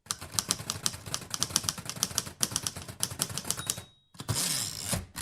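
Rapid, uneven clacking of a typewriter's keys striking close up, bursts of sharp taps broken by a brief pause, followed by a louder mechanical carriage sweep.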